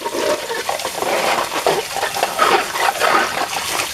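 Water splashing and swirling as a container is rinsed out after making homemade liquid dish soap with oil, a loud, continuous turbulent gush close by with uneven surges, no talking.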